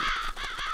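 Crows cawing in a cartoon farm scene, several harsh, nasal caws in quick succession, loud and close, with no speech.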